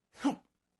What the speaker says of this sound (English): I was trying to hesitate and not do the sneeze, so it was a half sneeze.